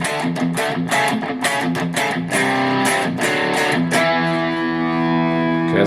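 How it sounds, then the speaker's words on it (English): Electric-style guitar played through the distortion setting of an Enya Nova Go Sonic guitar's built-in effects, loud gritty chords and picked notes in a loose rhythm, ending on a ringing sustained chord. "This is more like a distortion setting,"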